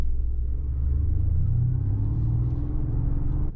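A low, steady engine-like hum rises gently in pitch like a vehicle accelerating, a smooth synthetic rumble with no talking: simulated combustion engine sound from a 2025 Mercedes-AMG G-Class electric car.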